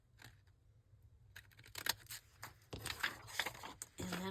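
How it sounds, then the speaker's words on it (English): Scissors snip through a piece of white cardstock at a desk with a measuring mat, giving a few short, close crisp cuts after a quiet start. "use the scissors, cut the white piece off."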